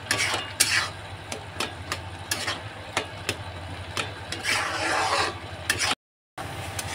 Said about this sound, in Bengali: মাওয়াটা দিয়ে ভালো করে আমি নাড়িয়ে নেব, যাতে মাওয়াটা ওর মধ্যে ভালো করে মিক্স হয়ে যায়